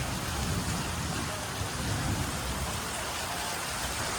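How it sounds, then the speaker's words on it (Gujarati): Steady rain pours down close by as a dense, even hiss that holds for the whole stretch, with no clear voices over it. "ભાઈ વરસાદ તો જો હજુ વરસાદ ચાલુ જ છે"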